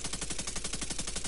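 Rapid automatic gunfire in the video game The Division 2, a fast, even burst of shots lasting just over a second, loud and up close.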